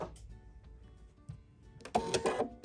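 A sewing machine stitching a 1/4 inch seam on a stuffed toy, quiet at first, then a loud, quick whirring burst of stitches near the end.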